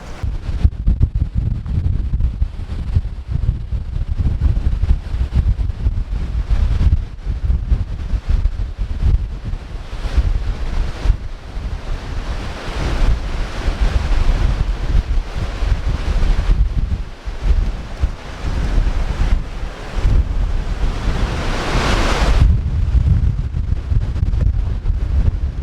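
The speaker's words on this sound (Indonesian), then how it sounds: "Anginnya masih kencang tapi nggak sekencang tadi." Strong mountain wind on Mount Bismo in a storm, loud continuous buffeting and roaring gusts battering the microphone for the whole stretch, with no voices.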